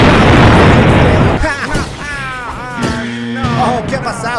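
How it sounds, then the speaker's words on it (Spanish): A heavy cannon blast booms loud and broadband, rumbling for over a second as a yacht is destroyed in a stop-motion Godzilla toy parody; afterward voices and cawing, squawking cries follow over fading debris. "Creo que no pudo soportar tanto cañonazo."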